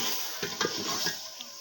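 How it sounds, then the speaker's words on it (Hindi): Saag greens being tempered in hot oil with garlic, coriander and chilli give a close, steady sizzle, broken by a few brief stirring scrapes in a pan. "साग को तड़का लगा लिया"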